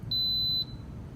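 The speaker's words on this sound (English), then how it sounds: "push the yogurt button until it gets to 8 hours, and make sure it's on normal, and it will start beeping to start it" An Instant Pot gives a single high electronic beep lasting about half a second as its yogurt program starts, clear and close over faint background hiss.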